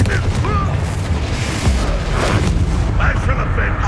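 Confringo fire spell blasting in the Hogwarts Legacy video game, a dense, loud rumbling boom with crackling bursts that fills the whole stretch, layered with game music and battle noise.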